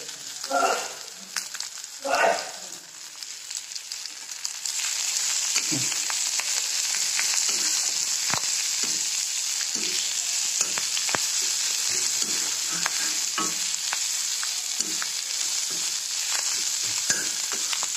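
Green peas frying in a pan with coriander leaves, a steady loud sizzle that swells after a few seconds and holds, with scattered clicks and scrapes of stirring throughout.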